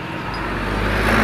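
Dense road traffic heard from a motorcycle riding into Marikina in stop-and-go traffic, a steady loud rumble of cars and engines that builds slightly toward the end, with no voices.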